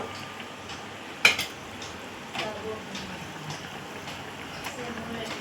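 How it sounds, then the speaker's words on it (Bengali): Eggs are added one by one to a pot of boiled potatoes, making a sharp clank followed by several lighter knocks and splashy clinks against the metal pot, over faint background noise. "এবার ডিমগুলো দিয়ে দেবো।"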